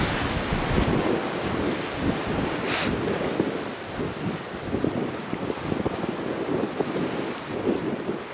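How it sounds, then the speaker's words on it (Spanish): Strong wind buffets the microphone at a beach while waves break and surge continuously, a loud, roaring, steady wash with no voices. "no sé cómo se escuchará con el viento, porque hace mucho viento hoy"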